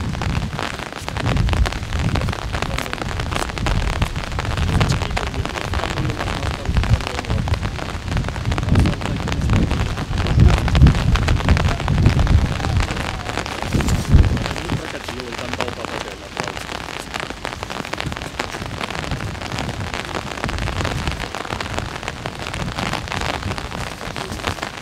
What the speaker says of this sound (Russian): Дождик начался.